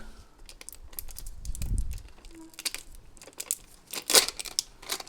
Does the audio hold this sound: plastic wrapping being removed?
yes